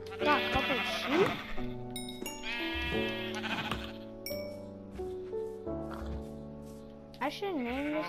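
Sheep in a blocky video game bleat repeatedly, several loud wavering calls overlapping one after another, fairly close and clear.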